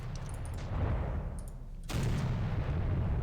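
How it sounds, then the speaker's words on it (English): Naval 5-inch guns fire in the Victory at Sea Pacific naval game during an Iwo Jima battle: a dense rumble of battle noise, with a loud boom near the two-second mark swelling into sustained heavy firing. "they kick up a good amount of firepower with the 5-inch guns"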